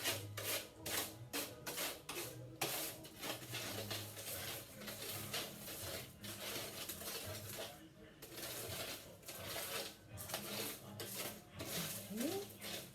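Pumpkin seeds roasting in a pan being stirred, giving steady scraping, rubbing and light rattling of seeds against the metal surface, with some speech mixed in.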